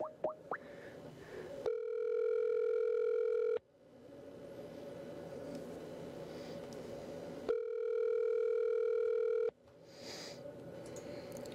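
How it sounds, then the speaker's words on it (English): A telephone call rings out on a live podcast stream, two long electronic ring bursts separated by several seconds of quieter line noise, loud and alone with no talking. "The phone is ringing."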